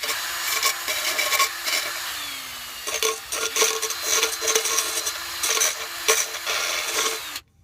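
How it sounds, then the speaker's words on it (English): Sanding stone rubbing and filing burrs off a metal can while a hobo stove is built, a series of short scraping strokes in uneven bursts, close and moderately loud, with no talk. "This is like a sanding stone, basically."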